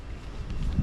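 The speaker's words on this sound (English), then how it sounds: "It's very windy out here" Steady outdoor wind buffeting the microphone on a property after a first lawn mowing of the season, a low rumbling roar with gusts swelling toward the end, no talking.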